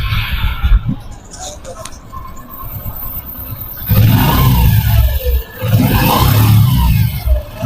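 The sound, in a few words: Honda motorcycle engine revving after repair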